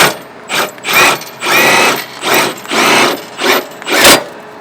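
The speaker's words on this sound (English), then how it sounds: "what I really like to use is a power drill with a 3/4 inch socket on it" A power drill fitted with a 3/4 inch socket drives a travel trailer jack at a campground, giving repeated loud whirring bursts of about half a second each, separated by short pauses, with no voices.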